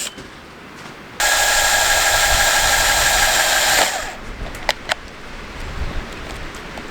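A drill spinning a 1.5 inch hole saw starts abruptly, then runs at a steady loud whine with a buzzing cut for about three seconds before stopping, followed by a few clicks and handling knocks.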